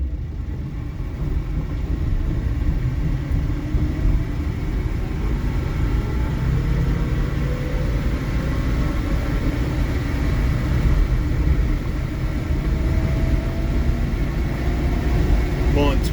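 An electric-converted MG Midget pulls away in third gear, a steady low road rumble and tire roar with a faint motor whine rising gradually, heard from inside the car.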